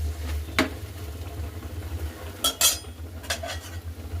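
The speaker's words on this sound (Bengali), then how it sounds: "একটু নাড়িয়ে নিতে হবে" A spatula or spoon stirs food in a cooking pan, producing a few scattered metallic scrapes and clinks over a low, steady background hum.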